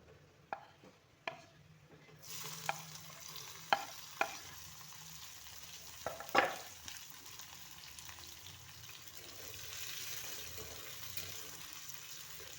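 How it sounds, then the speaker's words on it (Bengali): Whole onions frying in oil in a pan with cardamom, cinnamon and bay leaves for a duck egg curry, a soft steady sizzle with a few sharp utensil knocks and scrapes near the start, fairly quiet throughout. "পেঁয়াজগুলোকে খুব লাল লাল করে ভেজে নিচ্ছি।"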